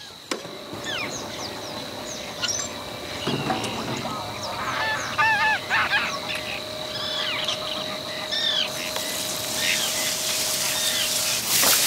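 Wild geese honk and call repeatedly in a reed marsh, a mix of nearby and more distant calls over steady wind noise, with a continuous high tone running through the background.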